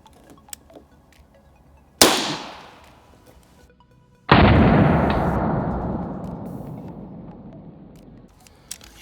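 Two sharp shots ring out from a less-lethal traumatic pistol or shotgun fired outdoors, the first a crisp crack, the second a louder blast with a long decaying echo, separated by a couple of seconds of near quiet.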